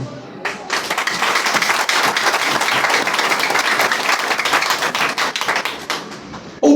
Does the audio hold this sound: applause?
yes